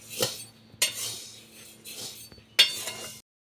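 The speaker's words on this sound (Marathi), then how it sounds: "मग मी इथे ते उडीद भाजून घेते" Whole black gram (urad) being dry-roasted in a pan for a traditional Kokan dangar flour gives a few separate bursts of scraping and rattling, with light metallic clinks close by and quiet gaps in between.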